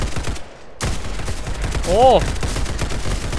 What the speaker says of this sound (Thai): รีโหลด ยิงไปก่อนครับ